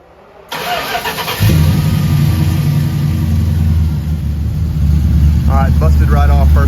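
A Honda Big Red ATV fitted with a new Brawler 750DP carburetor cranks and fires right up after a brief click, settling into a loud, steady close-up idle rumble, with a voice briefly talking over it near the end.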